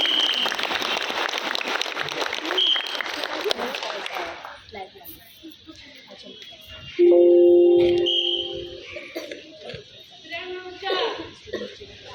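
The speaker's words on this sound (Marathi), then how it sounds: "सगळ्यांनी टाळ्या वाजवून त्यांना प्रतिसाद द्यायचा आहे" A crowd claps for a school pyramid performance at an Independence Day event, a dense stretch of applause fading after a few seconds, followed by a sustained whistle-like tone and scattered voices.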